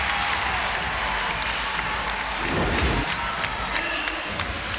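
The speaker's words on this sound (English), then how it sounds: "the Wolfpack fans and crowd have come alive here inside Reynolds Coliseum." Fans at an NC State Wolfpack women's NCAA tournament basketball game against Longwood in Reynolds Coliseum applaud and cheer in a loud, sustained roar, with a heavy thump partway through.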